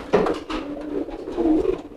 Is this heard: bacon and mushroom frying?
no